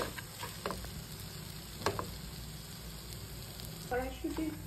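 Green pea kachuri filling seasoned with asafoetida frying in a pan, a steady low sizzle punctuated by a few brief stirring scrapes, fairly quiet and close.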